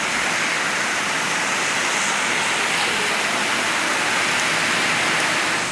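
Heavy rain driven by strong wind roars as a dense, unbroken hiss, loud and steady throughout with no distinct drops or voices.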